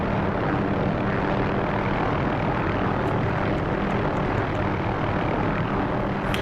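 Helicopter in a flight simulator makes a steady, loud rotor and engine drone that stays constant and dense from start to finish, with no voices over it.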